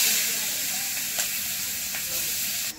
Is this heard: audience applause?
no